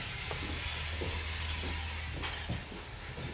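A train sits with a steady low engine rumble and hiss while tokens are changed on a railway line, with a few clanks and clicks over the continuous drone.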